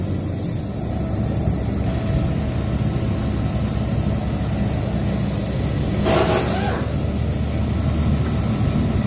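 A Chevrolet Blazer S10 engine runs at a steady, fairly loud idle, a continuous low rumble with no talk over it.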